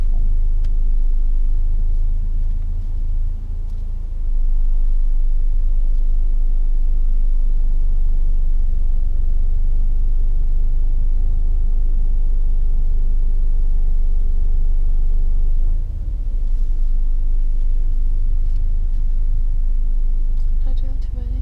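A car engine runs steadily while reversing into a parking bay, a low continuous rumble close by with a slight rise in tone midway, heard under and between spoken instructions.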